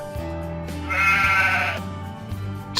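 Sheep bleating on a farm, a drawn-out wavering bleat rising loudly in the middle over a steady background of other animal calls, with no talking.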